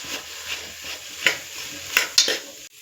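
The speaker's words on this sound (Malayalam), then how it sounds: "അരച്ചു വെച്ചിരുന്ന ബാക്കി ഇഞ്ചിയും വെളുത്തുള്ളിയും പച്ചക്കുരുമുളകും കൂടെ അരച്ചത് നമുക്ക് ഇതിൻ്റെ കൂടെ ചേർത്ത് വഴറ്റി കൊടുക്കാം" Ground ginger, garlic and green peppercorn paste sautéing in a pan for duck stew: a steady close sizzle broken by a few sharp, scraping stirs of the spoon against the pan, with no voices.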